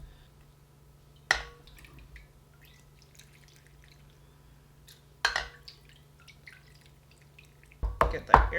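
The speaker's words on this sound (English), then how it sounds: "Now I'm going to pour the brine in." Salt brine is poured into a jar of cucumbers, heard as a few brief splashing pours and drips against a quiet background with a low steady hum, the splashes growing busier near the end.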